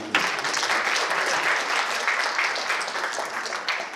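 A crowd claps to welcome a guest at a Korean ceremony marking the Cheongsanri victory anniversary. Sustained, fairly loud applause fills the full stretch with a sharp onset and a brief dip near the end.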